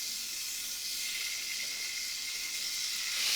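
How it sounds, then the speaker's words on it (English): Chicken livers sizzle in a very hot pan heated until smoking, giving a steady, loud frying hiss that runs unbroken and swells slightly at the end, with no talking. "And then I'm adding my chicken livers."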